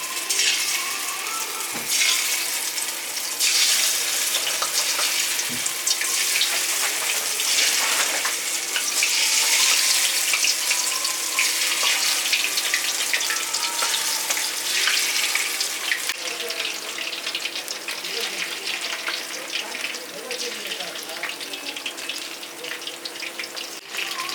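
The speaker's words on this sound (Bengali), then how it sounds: "আমার তেল ওদিকে গরম হয়ে গেছে তাই মাছগুলো একটা একটা করে ছেড়ে ভেজে নেবো" Prawns frying in hot oil for prawn chips make a loud, dense, continuous hiss that holds steady throughout, with a couple of brief low knocks near the start.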